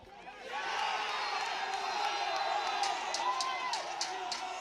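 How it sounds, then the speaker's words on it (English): A big crowd cheer drifts over from a neighbouring lacrosse match between Jamaica and Germany at the men's U21 world championship, a sustained, distant roar with whoops and claps that swells and holds for several seconds under commentary. "that big cheer coming from the game next door, Jamaica and Germany"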